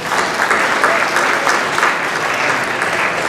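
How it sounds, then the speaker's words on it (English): A large hall audience at the Islamic Society of South Australia's 70th anniversary event gives the Convention Centre team a loud, steady round of applause, a thick unbroken wash of clapping from many hands. "please join me in giving them a round of applause"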